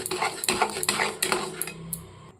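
A spoon scrapes and knocks against a pan while palm pulp is stirred for taler kheer, several clinking strokes close up with no talk.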